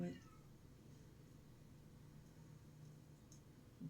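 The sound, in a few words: cat meowing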